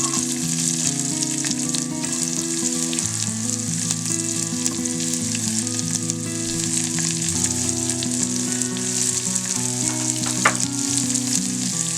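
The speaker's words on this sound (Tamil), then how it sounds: "வெட்டி வச்சிருக்கிற வெங்காயம் சேர்த்துக்கலாம்." Onions and curry leaves fry steadily in hot oil for a banana stem soup, a dense continuous sizzle with occasional stirring scrapes, close and loud, no voices.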